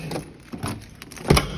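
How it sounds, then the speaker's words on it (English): Keys jangle and clink in short bursts while a door is locked, with a louder metallic clatter near the end over faint room noise and no talk. "not me locking the door"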